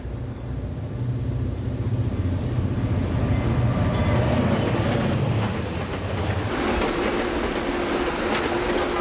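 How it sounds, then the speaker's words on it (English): The City of St. Louis passenger train, Train 9, rolls past a track gang, a steady loud rumble of wheels with clattering rail joints and a faint squeal toward the end. "Train 9, the City of St. Louis, passes the track gang"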